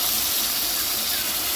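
Ginger-garlic paste with turmeric and green chili frying in a pan, a loud, constant sizzling hiss that stays close and unbroken throughout.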